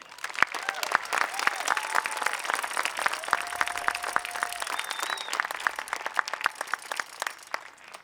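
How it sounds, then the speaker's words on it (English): A graduation ceremony crowd of friends and family applauding the students, dense sustained clapping from many hands in a large hall, steady and continuous, with a few scattered cheers and voices mixed in. "Friends and family, please join me in applauding these students."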